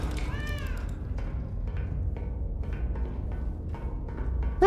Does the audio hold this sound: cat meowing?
yes